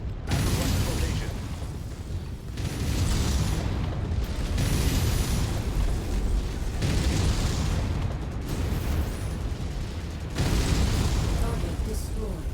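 A mech blows up in MechWarrior with loud explosive bursts, mechanical clanks and steady rumbling, the booms returning every few seconds over dense noise.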